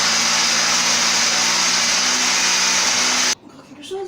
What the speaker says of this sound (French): elle va mixer les pommes de la compote.